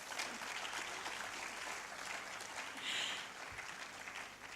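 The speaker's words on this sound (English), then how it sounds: "I want us all to give them a big round of applause." Applause from an audience at an AI book launch, steady clapping that swells slightly near the end, heard at a distance with no talking.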